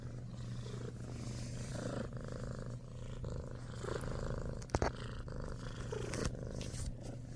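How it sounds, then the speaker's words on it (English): A kitten purrs steadily in close-up, a low, continuous rumbling hum that stays soft and even throughout, with no speech. "Oh, she's making a big purr,"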